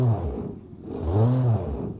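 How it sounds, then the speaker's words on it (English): A 1946 commuter sedan engine in BeamNG revs up quickly from idle, rising to a brief higher whine and then dropping back, close and alone with no talk. "it revs up very quickly"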